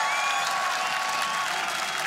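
A large arena crowd at the Ahoy Arena applauds and cheers G2 Esports after the final game of the 2019 LEC Spring Split, a dense, loud, sustained wash of clapping with no pauses.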